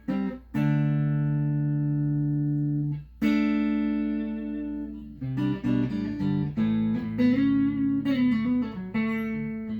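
Electric guitar, a Stratocaster with its tone control rolled down, played with a dark, muffled tone, sustained single notes first, then a series of strummed and picked chords.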